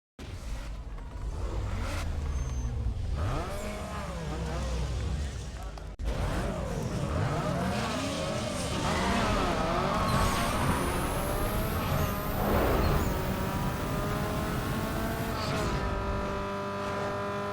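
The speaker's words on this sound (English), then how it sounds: "let's quickly go do a drag race" An Acura RSX with a 2.0L I4 drag races in Need for Speed Underground 2, the engine revving loudly and climbing in pitch through repeated gear shifts, with rising whines and a brief cut near the middle.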